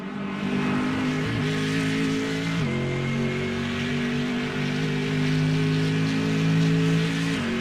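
GT4 race car in a racing video game, rolling into the pits: a steady, close buzzing engine drone whose pitch dips and rises gently, with no voices.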